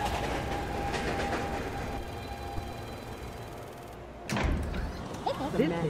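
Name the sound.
New York subway 1 train in station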